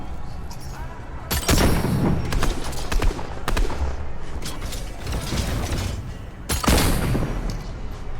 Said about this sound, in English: He just starts cannoning on them, doing a bunch of cannons